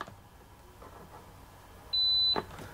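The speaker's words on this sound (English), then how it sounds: "Wait about 5 seconds and you'll hear a beep." A single short electronic beep sounds clearly from the control panel of a 7500-Rev4 backwash water filter system, preceded by faint handling noise in a quiet room.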